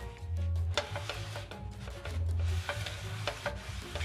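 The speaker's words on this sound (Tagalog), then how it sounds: "Punasan ko lang ng tissue." Tissue wiped around the inside of a non-stick frying pan still oily from frying tilapia gives a soft, close scraping rub in repeated strokes, with a low hum running beneath.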